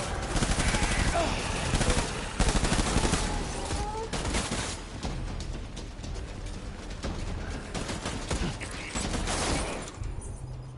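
Sustained automatic gunfire in the video game Death Stranding, dense overlapping rapid bursts with explosive cracks filling the whole stretch, loud and continuous with game effects layered in.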